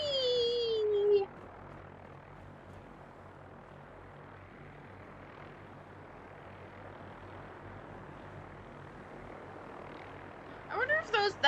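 A low, steady engine drone from the Prydwen airship in the video game Fallout 4 hums distantly under a faint voice, with brief whooshing effects at the start and end.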